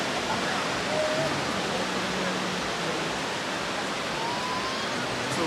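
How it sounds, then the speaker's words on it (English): Surf on a beach on Trinidad's north coast makes a steady, dense wash of noise that rolls on without a break, fairly soft and even throughout. "So we're here on the beach"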